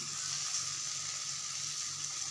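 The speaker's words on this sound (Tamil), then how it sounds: "திருப்பி போட்டோன்னா கொஞ்சோண்டு எண்ணெய் ஊற்றிக்குவோம்" Navadhanya adai frying in oil on a pan, a steady, soft hiss of sizzling that continues evenly throughout with no talk.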